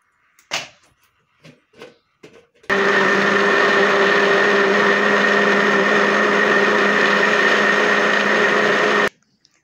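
A cracked blender, its body broken, whirs loudly and steadily for about six seconds while blending mango peel juice, after a few short knocks and handling sounds.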